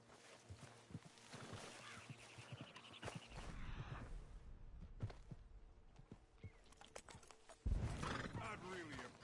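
A horse in a video game neighs, with hooves clip-clopping around it, heard beneath a voice and other game sounds. Toward the end a louder burst of hoof and movement noise rises.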